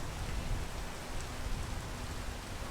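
Rain in the video game PEAK falls as a dense, steady broadband hiss, loud and continuous with no voices over it.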